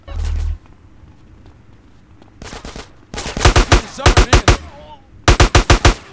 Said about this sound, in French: on est reparti en fusillade